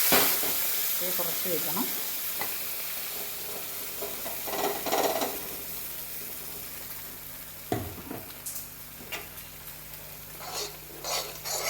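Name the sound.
paneer green peas curry gravy poured into hot oil, frying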